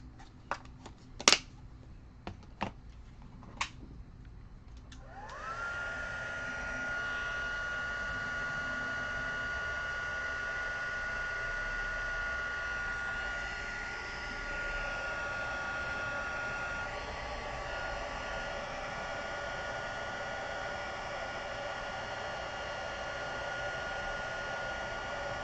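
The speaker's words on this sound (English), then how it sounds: "So we're gonna hit this with the heat tool." A heat embossing tool blows on a stencilled craft background to melt the powder. A few light taps come first, then a steady, close, whirring rush of air with a faint whine that runs unbroken to the end.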